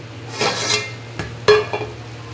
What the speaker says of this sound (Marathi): हे बघा, चांगलं परतून घेते त्या मसाल्यांना, पण खाली लागायला नको पाहिजे असे.